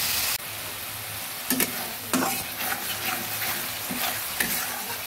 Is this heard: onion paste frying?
yes